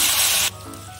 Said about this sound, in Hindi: टमाटर का पेस्ट डाल देंगे।